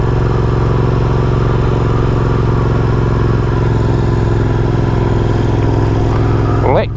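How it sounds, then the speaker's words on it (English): A Royal Enfield Interceptor motorcycle fitted with Lextech exhausts runs with a loud, close, steady throbbing engine note on an early Sunday morning in the countryside, then shifts briefly at the very end. "It's just got to be the best sounding bike I've ever had"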